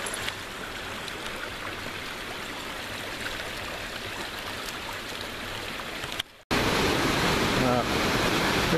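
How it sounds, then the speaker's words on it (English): A small creek swollen by a night of hard rain runs steadily close by, a continuous broadband rush of flowing water with a brief dropout partway through before the flow resumes loud. "And here's a little creek, brook."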